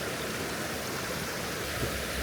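Flowing river beside a hiking trail, a steady broadband rush of water, close and continuous with no voices.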